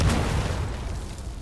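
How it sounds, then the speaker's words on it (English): Grenade explosion in the video game Titanfall 2, a loud booming blast at the start that fades into a long, low rumbling roar, with no talking. "I forgot how big the explosion radius was"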